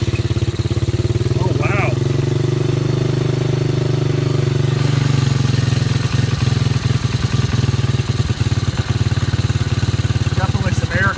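A Chinese quad ATV engine runs on full choke in neutral with a steady, loud, close idle drone and some clatter, while someone briefly speaks over it.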